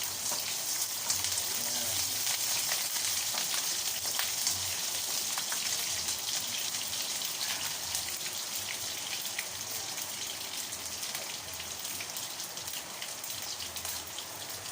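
Garlic fries in a pan with a steady close sizzle and crackle, dense spattering hiss throughout, with faint talk underneath.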